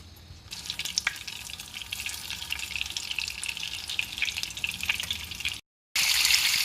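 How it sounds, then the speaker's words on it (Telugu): Slices of bitter gourd sizzle steadily in hot oil, a loud, even crackle that cuts out briefly and then returns stronger. "నూనె వేడైంది. కాకరకాయలను వేసుకుందాం."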